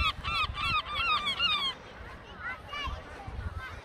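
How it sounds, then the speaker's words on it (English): Seagulls on a holiday outing cry in loud, repeated high squawks close by, then fainter calls further off, with a voice and background babble beneath. "Seagull."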